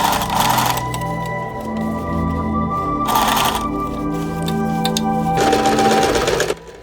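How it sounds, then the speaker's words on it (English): Sewing machine stitching the armhole seam of an Áo Dài sleeve, a loud close mechanical whir with rapid needle chatter that rises and eases in bursts before stopping at the end; no voices. "Pin carefully and sew along the armhole."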